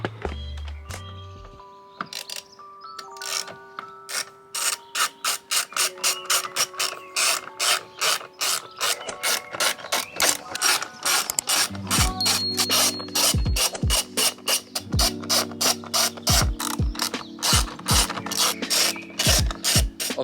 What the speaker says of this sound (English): So we'll undo all them bolts now.